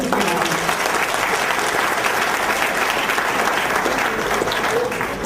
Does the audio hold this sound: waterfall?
no